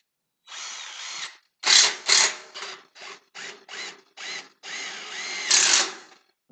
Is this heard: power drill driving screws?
yes